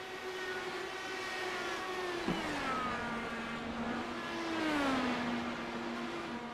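IndyCar race cars in a simulated Iowa 200 oval race sweep past. A high engine whine bends downward as one car passes close, and another engine follows with a rising then falling pitch.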